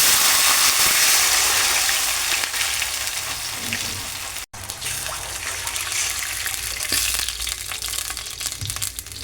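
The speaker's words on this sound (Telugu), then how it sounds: "ఇప్పుడు పోపు వేగిపోయింది కదా, వాటర్ పోసుకోవాలి సరిపడినంత." Water poured into a pan of hot tempering spices for semiya upma, a loud rush of sizzling and bubbling that gradually settles into a steady simmering hiss.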